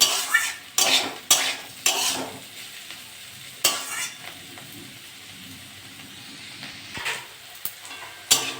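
Bitter gourd and boiled potatoes, with a little sugar, fry in a pan under a steady soft sizzle. A spatula scrapes and clatters against the pan in irregular close strokes, with no talking.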